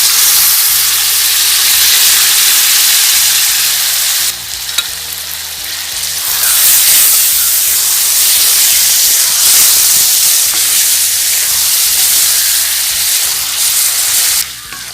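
Cooked beef sizzling loudly in a pan with masala for beef and tapioca, a steady close hiss and crackle of frying with occasional stirring shifts and no talk.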